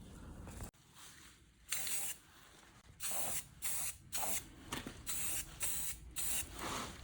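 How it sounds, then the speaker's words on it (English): Several short hissing bursts from an aerosol can spraying light coats of primer on a Toyota Camry mirror part, each lasting under a second, separated by brief pauses, close by and fairly quiet. "now we're gonna spray it in layer, very nice light layers."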